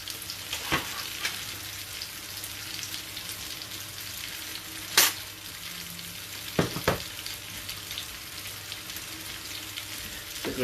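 Butter and olive oil sizzle steadily in a frying pan, a continuous crackling hiss with a few louder pops and spatters, close by and with no talking.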